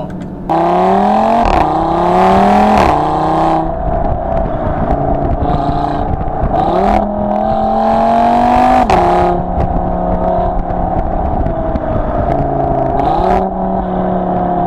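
A 2017 Audi TT RS with a sports exhaust, heard up close and loud: the engine revs climb repeatedly, then drop sharply at each downshift with quick blips, and the exhaust roars steadily throughout.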